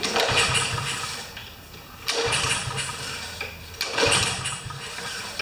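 A Toro Pace lawn mower with a Honda engine cranking and catching, loud and close, in three surging bursts that drop back and rise again as it starts.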